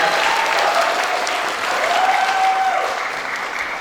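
Sustained applause from an audience at an Indonesian stage event, dense and steady throughout, fairly loud with a faint tonal hum running underneath.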